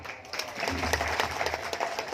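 An indoor audience at a participatory election-oversight outreach event in Pemalang gives brief, scattered applause for local arts and culture activists, a soft patter of clapping under a low hum.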